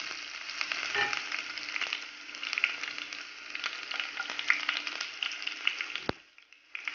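Garlic and ginger fry in hot oil with popping mustard seeds, a close, continuous bright sizzle with scattered crackles and one sharp tap before it quiets at the end.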